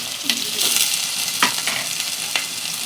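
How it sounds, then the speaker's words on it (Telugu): Green chillies and chopped onion sizzle steadily in a hot pan for curry, with a continuous close frying hiss broken by a few short stirring scrapes. "పచ్చిమిర్చి, ఆనియన్ మంచిగా బ్రౌన్ కలర్ వచ్చేంత వరకు ఫ్రై చేసుకోవాలి."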